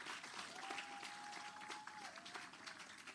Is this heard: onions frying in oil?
no